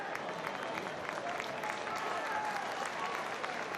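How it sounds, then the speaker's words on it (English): Stadium crowd applauding Leigh Leopards rugby league players as they return to their end in a Super League match against Castleford Tigers, a steady broad wash of clapping filling the whole stretch at moderate loudness with faint crowd murmur. "Leigh players being applauded as they return back to their end of the field"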